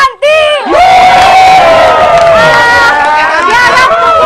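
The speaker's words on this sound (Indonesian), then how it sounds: "Kita beri tepuk tangan yang meriah." Loud crowd cheering and shouting at an outdoor stage show, a dense roar of many voices with whoops, whistles and rising cries sustained throughout after a brief pause at the start.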